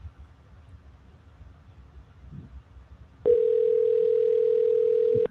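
Quiet room noise gives way to a loud, steady phone dial tone from a soft phone that holds for about two seconds.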